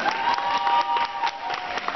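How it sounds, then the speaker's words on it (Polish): Audience applause at a Latin dance competition final in Mława, a steady dense patter of clapping hands with faint cheering mixed in, sustained and fairly close throughout. "Jedna para, takie brawa, to mi się podoba."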